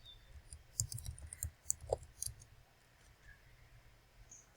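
Computer mouse clicks, a handful of sharp, close taps in an uneven burst near the start and middle, then a quiet stretch with faint room tone.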